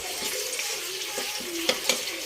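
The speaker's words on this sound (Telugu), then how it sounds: "అందులో ఆయిల్ వేసి, ఆయిల్ వేడైన తర్వాత కట్ చేసుకున్న మిర్చి కరివేపాకు వేసుకోవాలండి." Green chillies and curry leaves sizzle in hot oil, a steady dense hiss with a few sharp pops and crackles toward the end, close and alone without talk.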